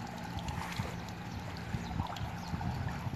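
An improvised motor pump drains a swimming pool, producing continuous rushing and gurgling water with a low mechanical hum underneath. It holds steady throughout, close and moderately loud.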